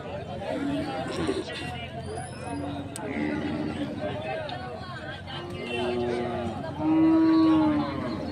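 Cattle moo at intervals at a weekly Saturday livestock market at Gavi Rangapura hill, several calls near and far rising above a steady crowd hubbub, with people talking throughout.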